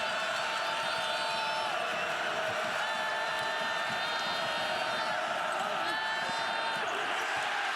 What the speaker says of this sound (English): Listen to this crowd in Gainesville.